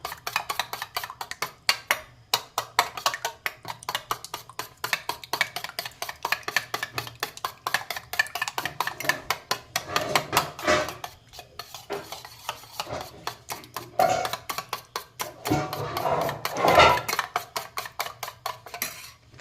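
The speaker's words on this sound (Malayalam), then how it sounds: "അപ്പം ഇനി മുട്ട നമുക്ക് ഇളക്കി മിക്സ് ആക്കാം" Eggs seasoned with salt and pepper are beaten for an omelette, a fast, steady run of close, sharp utensil strikes against a bowl that continues without talk.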